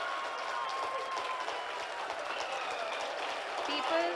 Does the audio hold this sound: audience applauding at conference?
yes